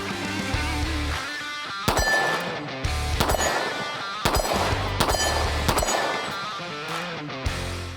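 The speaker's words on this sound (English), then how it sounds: "Let's just shoot a few shots through this." Several sharp pistol shots from a Sig Sauer P365-Fuse fitted with a red dot, fired one at a time at irregular intervals, each report loud and close with a metallic ring trailing off between shots.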